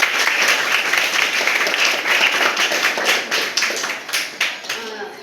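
Loud applause fills a school quiz programme as a team's score is announced, a dense steady clapping from a crowd that thins out toward the end.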